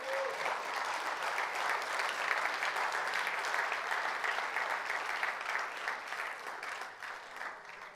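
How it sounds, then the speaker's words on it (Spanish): A church congregation claps steadily for several seconds, a dense, even applause that slowly thins toward the end. "Así que vamos a aplaudir."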